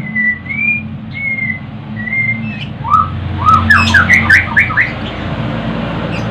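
A hungry painted pitta chick, paok pancawarna, being hand-fed, gives thin, drawn-out whistles, then a quick run of sharp, squeaky begging chirps, loud and close over a low steady hum.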